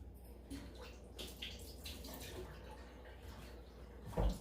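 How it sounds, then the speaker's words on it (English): A tablespoon of water is poured onto two cups of marshmallows in a bowl, a faint trickle under quiet room noise ending in a short, louder splash. "I'm just going to get a tablespoon of water to put into these marshmallows"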